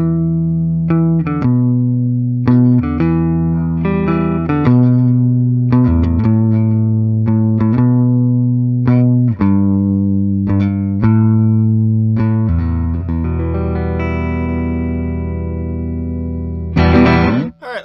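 A Gibson SG electric guitar with a Vibrola tailpiece, played plugged in: a clean to lightly driven sequence of strummed chords and picked notes with a steady rhythm, ringing sustain and a final bright scrape near the end, loud and alone.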